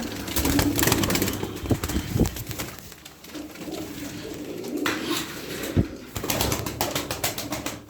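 Erzurum white play pigeons coo close by in low, rolling calls, joined by bursts of flapping wings.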